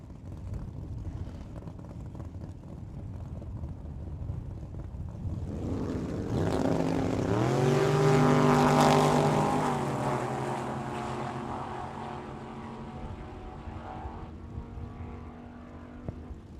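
A Camaro and a Monte Carlo launch side by side in a drag race at the Tucson Dragway, engines swelling to a loud roaring pass at mid-distance and then fading away down the track.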